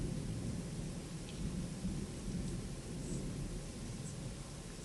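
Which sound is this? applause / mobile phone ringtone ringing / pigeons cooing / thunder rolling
thunder rolling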